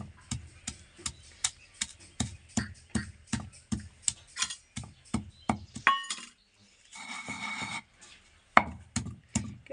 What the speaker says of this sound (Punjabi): ਹੁਣ ਇਹਨਾਂ ਨੂੰ ਮਿਰਚਾਂ ਨੂੰ ਆਪਾਂ ਬਰੀਕ ਕਰ ਲਵਾਂਗੇ ਚੰਗੀ ਤਰ੍ਹਾਂ ਕੁੱਟ ਲਵਾਂਗੇ